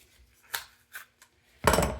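A tool cutting open a used oil filter makes a few short, close scraping cuts, followed by one longer, louder rasping tear of metal at the end.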